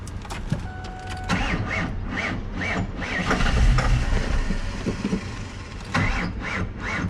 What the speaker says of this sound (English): when you crank the car